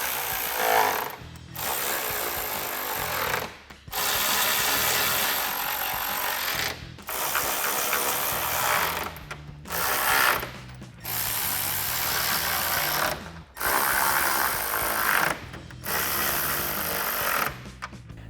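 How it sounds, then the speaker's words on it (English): A ratchet with a 10mm socket tightens grille bolts on a RAM 1500, a loud, close, rapid clicking that runs in long stretches broken by short pauses as each bolt is driven down. "now we can grab our 10mm socket to tighten these all down"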